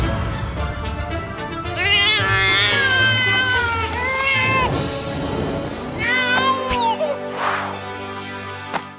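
A cat gives several drawn-out, rising and falling meows of varying pitch, mostly alone, with a low background hum in a family kids' song.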